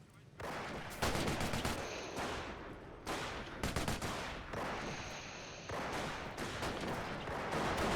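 MG-34 machine gun fire in the Company of Heroes video game, several loud, close bursts of rapid automatic shots separated by brief pauses, with other battle gunfire mixed in.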